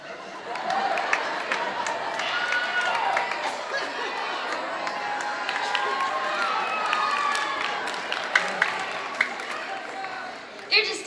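Audience at a 7th and 8th grade band Christmas concert, heard as a dense wash of crowd noise with scattered cheers, voices and children calling out.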